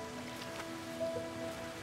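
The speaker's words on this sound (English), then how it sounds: "the rain sounds fantastic" Rain falls in the underwater video game Under The Ocean as a steady, soft patter with faint tonal game sounds layered over it and no voices.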